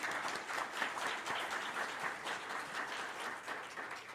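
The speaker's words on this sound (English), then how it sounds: "So let's give him a round of applause." An audience at a club meeting applauds, a sustained patter of many hands clapping at moderate volume, steady for several seconds.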